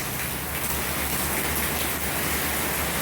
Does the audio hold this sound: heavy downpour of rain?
yes